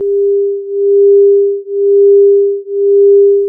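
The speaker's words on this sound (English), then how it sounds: "The beating sound is effectively a third pitch played at 2 Hz" Two pure electronic sine tones hum together steadily, swelling and dipping in volume about once a second in a slow, even beating pulse.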